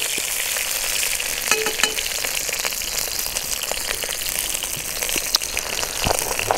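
Buckwheat frying on a grill outdoors, a steady broadband sizzle running throughout with occasional small crackles and pops, close and fairly loud, no talking.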